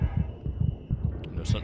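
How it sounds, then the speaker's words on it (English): A heartbeat in the underwater horror game SOMA throbs in quick, steady, deep low thumps, repeating evenly over a faint hum while a voice talks faintly over it. "You guys hear that? It's your heartbeat."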